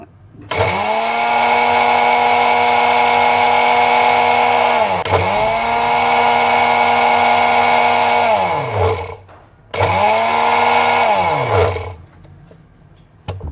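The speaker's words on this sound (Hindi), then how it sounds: "ये देखिए मैंने अपने ग्राइंडर में ये डाल दिए ज़ीरा। इसको मैं अच्छे से ग्राइंड करूँगी।" An electric kitchen grinder whirs loudly as it powders cumin seeds, running in three steady bursts with brief pauses where the motor winds down and restarts.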